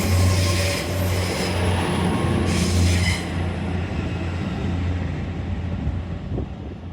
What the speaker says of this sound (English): Always time to film the train go away though, isn't it?